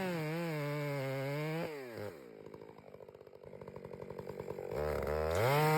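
A chainsaw cutting a face cut into the flared butt of a big pine tree, loud and close, its engine droning high, bogging down under load, then revving back up, with no talk.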